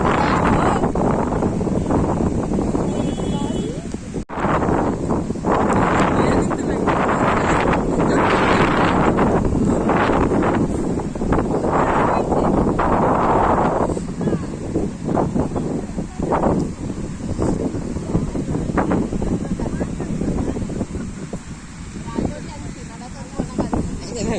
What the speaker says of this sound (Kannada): ಮಸ್ತ್ ಗಾಳಿ ಬಂದ